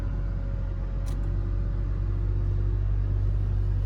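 A 2WD third-generation Toyota Tacoma rolls in low gear at near-idle speed, its engine giving a steady, loud low rumble with no change in pitch, and there is no talking.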